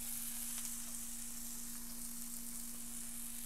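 Stuffed jerk pork sears in a hot pan with a steady, close, even sizzle and no voices.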